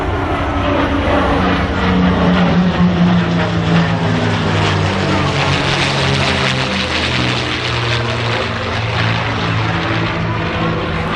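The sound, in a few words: aircraft flying past at an air show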